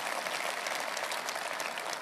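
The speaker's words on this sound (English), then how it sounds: "I never thought I'd get such applause for Jeremy Corbyn at a Tory party conference" Party conference audience applauding steadily in a large hall, dense even clapping heard at a distance, with no voice over it.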